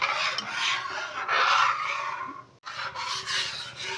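A ladle stirs milk with Gobindobhog rice and small cardamom pods in a pot for payesh, making continuous close scraping and rubbing strokes with a brief pause midway.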